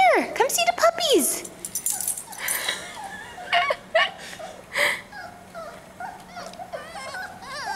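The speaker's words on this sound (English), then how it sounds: "Come see the puppies." Six-week-old puppies whimper and yip in high, wavering cries that come in short bursts, close by, mixed with people talking.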